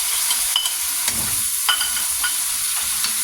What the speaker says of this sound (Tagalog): Luto na yung sibuyas. Lagay natin yung kamatis.